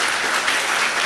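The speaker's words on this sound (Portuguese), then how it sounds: "Palmas, gente, para Jesus, palmas para esse texto." A church congregation at a Bible teaching on the Gospel of Matthew applauds, a brief burst of dense, even clapping from many hands at close range.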